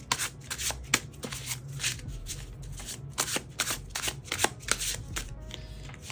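Tarot cards shuffled by hand in a steady run of crisp riffles and soft slaps, close and fairly loud, with no talking.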